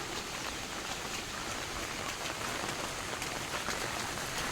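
Steady rain falls across the grounds of Uparkot Fort in Junagadh, a continuous hiss of drops striking surfaces, even and fairly loud throughout with no voices.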